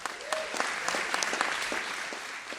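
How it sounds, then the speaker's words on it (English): Audience applause at a California arts and culture keynote, a dense steady patter of many hands clapping for a few seconds, fairly close and even in level. "So give yourselves a round of applause."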